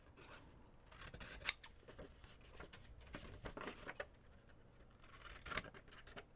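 Scissors snipping the small corners off a paper book-page pocket at an angle, a few crisp close cuts and rustling paper handling, quiet and alone without talk.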